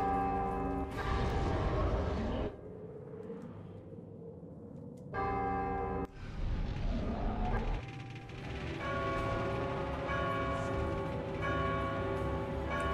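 Bells ringing in God of War 2, long sustained metallic tolls with two clear strikes separated by a quieter stretch, then more overlapping ringing that lingers to the end.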